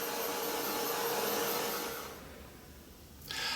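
A heat tool blowing steadily as it dries gesso on a mixed media art journal page, a loud, even whirring roar that fades partway through and then briefly returns.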